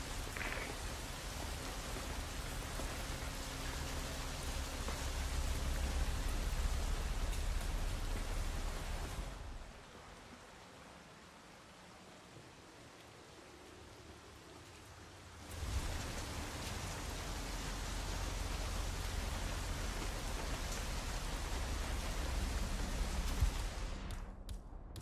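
Rain falls in the Hitman III game world, a dense steady hiss of downpour that drops away to a muffled quiet for several seconds before the full rainfall returns, heard alone with no talk.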